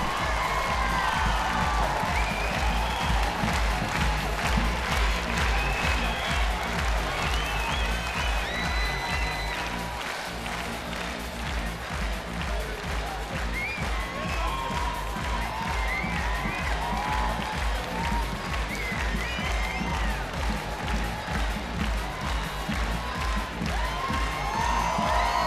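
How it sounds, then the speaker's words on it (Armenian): A large stadium crowd at the opening ceremony of the fifth Pan-Armenian Games breaks into loud, sustained applause and cheering, with whistles and whoops rising over dense clapping that continues for the whole stretch. "բուռն ծափահարություններ"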